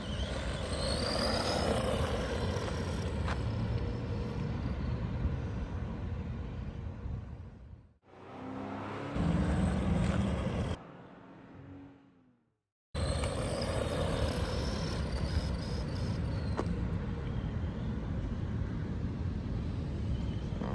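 A Team Associated RC10 radio-controlled car driven at a steady, moderate pace, giving a continuous buzzing motor and wheel noise. The noise drops away briefly twice, with one short silence, before resuming.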